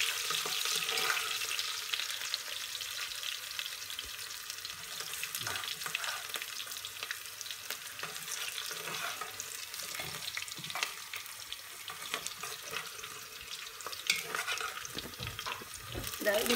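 Onions frying in oil until golden for homemade Tamil Nadu style sambar, a faint continuous crackling sizzle that holds steady throughout with small spatters.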